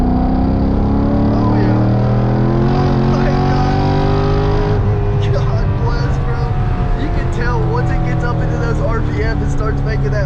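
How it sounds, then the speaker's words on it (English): A Mk5 Toyota Supra racing a C6 Corvette Z06, with a loud engine note climbing hard under full throttle in third gear, a steady rising drone close by that shifts partway through. "Full third gear action right here."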